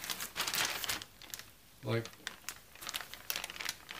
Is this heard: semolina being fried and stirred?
no